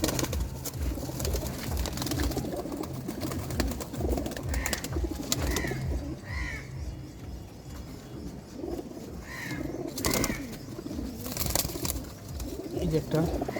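Pigeons cooing inside a loft at Keraniganj, soft repeated coos and bird calls heard amid people talking through most of the scene.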